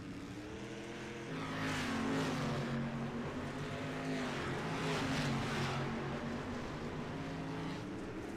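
Dirt street stock race car engine in the iRacing video game, a steady droning roar that rises and holds at high revs, fairly faint and continuous throughout.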